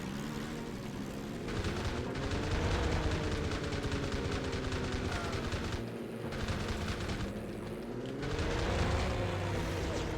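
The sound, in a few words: Zero fighter plane's machine guns firing in Heroes of the Pacific video game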